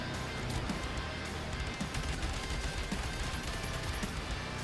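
Dense, continuous gunfire from the online shooter Concord in a multiplayer match, with rapid overlapping shots and crashes at a steady, loud level throughout.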